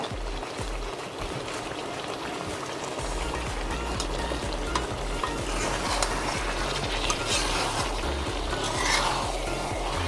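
Chicken karahi with ginger stirred in olive oil in a pot, a steady close sizzle and crackle of frying with scraping stirs, continuous throughout.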